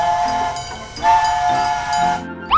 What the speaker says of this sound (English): A train goes choo, choo, choo.